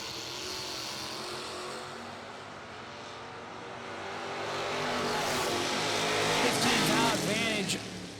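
Drag racing cars, one a 1973 Chevrolet Camaro, at a bracket racing event, a broad engine roar that swells louder toward the end, with a commentator talking over it.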